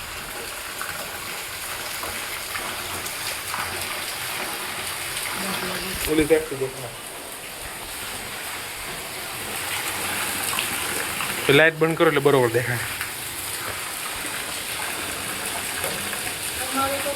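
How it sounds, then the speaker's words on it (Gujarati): Heavy rain pours steadily outside during a storm, a constant loud wash of noise with people talking over it now and then. "ફૂલ વરસાદ ચાલુ છે."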